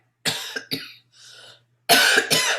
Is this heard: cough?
yes